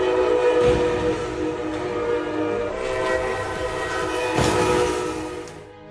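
A Brightline passenger train in Miami-Dade County rolls past close by with a rumbling, rattling pass, sounding its horn in long sustained blasts over the wheel noise.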